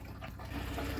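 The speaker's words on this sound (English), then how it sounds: "we're starting to get a good flow of water coming through" Water runs steadily from a tap inside a Chausson motorhome, a short, continuous rushing flow that grows slightly stronger partway through, with no talking.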